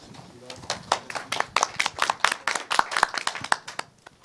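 Applause from the audience at the close of a science and technology policy forum, a brief burst of quick, fairly close hand clapping that swells and then thins out.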